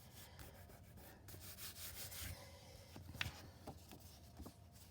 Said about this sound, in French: Mon plioir pour sortir l'excédent de colle